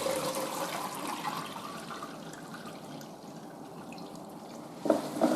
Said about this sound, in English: Place the mop into the wringer, push down, twist the mop around, push down again